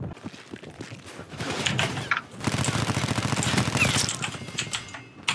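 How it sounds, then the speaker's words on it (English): Rapid bursts of Call of Duty: Black Ops 4 gunfire rattle loudly and continuously, with a short gap before the shooting resumes. "I heard gunfire."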